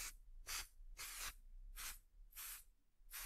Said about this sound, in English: and lightly spray my flower